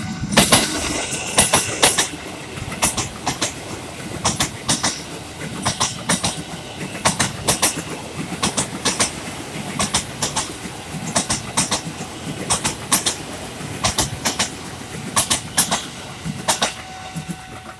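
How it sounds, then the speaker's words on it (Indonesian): A long commuter line train rolls past a railway level crossing, its wheels beating out a steady clickety-clack of rhythmic clatter with brief metallic squeals, loud and close throughout with no talking. "Sekarang kereta komuter lain."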